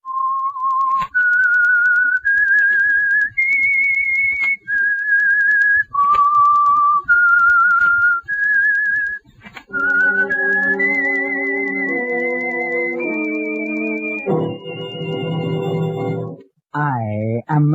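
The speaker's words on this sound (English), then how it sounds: "That whistle is your signal for the Signal Oil program" Whistled theme signal for The Whistler radio drama: a lone whistler carries a wavering melody of steady sustained notes, then an orchestral band swells in beneath it, ending on a bright brassy sting.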